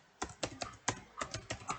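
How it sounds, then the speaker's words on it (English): Typing on a computer keyboard, about ten quick, fairly faint keystrokes in an uneven rhythm, close and clear with no voice over them. "and I will type"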